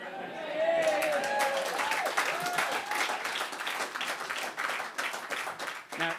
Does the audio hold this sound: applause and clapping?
yes